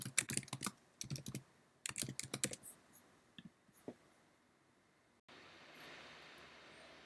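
Fingers typing on a computer keyboard, quick clusters of crisp clicking keystrokes in short bursts with pauses, close and alone, followed by a faint steady hiss at the end.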